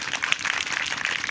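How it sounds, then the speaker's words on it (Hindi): An audience at a talk on bowing to the Buddha claps in a dense, steady burst of applause lasting about a second, fairly loud and close. "बात अच्छी लगे तो समर्थन ताली से दिया"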